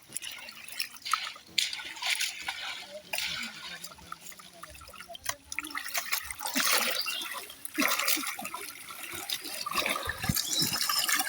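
Cow tripe being rinsed in running water, with steady splashing, trickling and dripping that carries on throughout at moderate loudness, while voices talk in the background.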